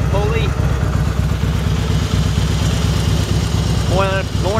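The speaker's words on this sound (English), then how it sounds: "I'm gonna start it, let you hear it." A 2004 Harley-Davidson Softail Deuce motorcycle idles nearby with a steady, deep, rhythmic engine throb, and brief chirping sounds come near the start and end.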